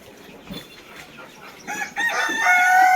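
Chickens in a bamboo-perched poultry shed, dimly lit, clucking and calling close by, starting soft and growing louder and busier toward the end, with no talk.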